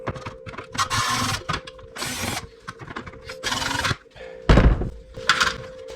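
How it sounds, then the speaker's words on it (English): Screws being removed from a brake controller bench tester: repeated bursts of ratcheting tool noise and metallic mechanism clicks, close and fairly loud, broken by short pauses and a heavier thunk near the end. "This here is being held on by a couple of screws. So let's go ahead and get those out."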